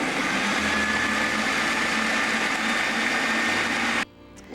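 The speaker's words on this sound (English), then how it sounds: "put them in our food processor" A food processor purees frozen strawberries with ginger and a splash of rum, its motor whirring loudly and steadily for about four seconds before cutting off abruptly.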